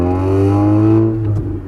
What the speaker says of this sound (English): we've got a really, really noisy 96 Honda Accord with a screwed up muffler